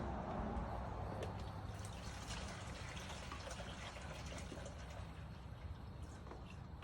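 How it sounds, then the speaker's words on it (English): Water is poured into a cooking pot for dirty rice, a faint steady splashing and trickling fill lasting several seconds with no one speaking. "1, put it in the pot."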